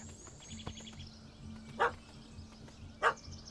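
A dog barks twice in The Witcher 3, two sharp distinct barks over quiet game ambience with a faint hum.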